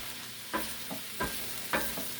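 Cabbage and kielbasa sizzle softly in an enameled cast iron pan as a utensil stirs them in about four scraping strokes, each a brief scrape over a gentle frying hiss.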